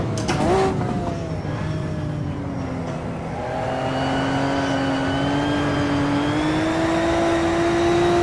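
A Maserati 250 race car engine in a driving video game drones loudly and steadily, its pitch dipping after a brief shift and then climbing gradually as the car accelerates.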